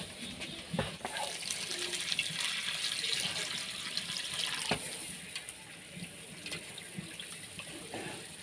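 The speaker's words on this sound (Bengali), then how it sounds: "তো মেটেটা ধুয়ে নিচ্ছি আমি" Running tap water splashes into a kitchen sink as chicken liver is rinsed by hand, a steady close hiss with intermittent clunks and sloshes.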